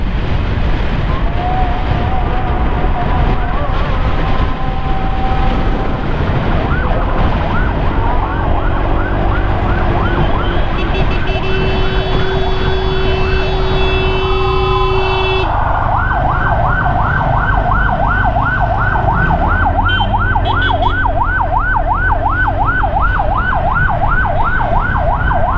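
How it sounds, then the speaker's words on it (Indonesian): A loud ambulance emergency siren wails continuously, shifting between rising-falling and rapid yelping patterns, with traffic rumble underneath. "untuk sirinenya sirine darurat gitu ya"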